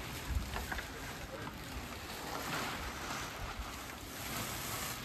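Wind gusts across an outdoor rural wedding setup, rustling a thin plastic tarp in a steady, rushing roar with soft flapping, no talk over it.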